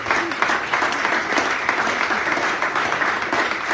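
A church congregation at a night vigil claps together in a sustained, even roar of many hands, moderately loud and unbroken, with no voices standing out.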